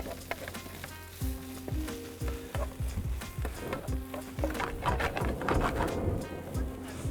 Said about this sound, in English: Fry off the black pepper until it's fragrant and in the air.